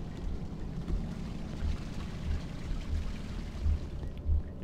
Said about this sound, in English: I hear rushing water.